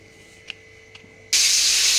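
Eggplant slices frying in a pan burst into a loud, steady sizzle after a quiet start with a couple of faint taps, and the hiss holds strongly to the end.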